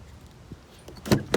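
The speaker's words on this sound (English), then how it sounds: "that unlocks all doors." A 2019 Chevy Equinox Premier's door locks actuate from the key fob, giving a faint click followed by two sharp, close mechanical thunks in quick succession.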